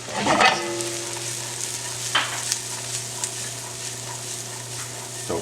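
Peas, beef bacon, garlic and onion frying in a pan, a steady close sizzle with a burst of louder spitting and stirring at the start and a few light clinks later.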